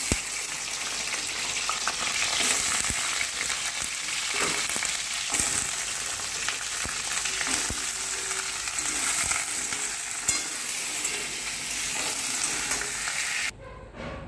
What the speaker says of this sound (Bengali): আমি প্রথমে আলুটা ভেজে নেব।